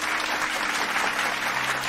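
A seated lecture audience applauds in a brief, steady burst of many hands clapping, fairly soft and even, with no voices over it.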